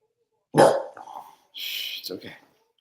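A dog barks indoors at home, two sharp, loud bursts close by, the second rougher and more drawn out, with silence around them.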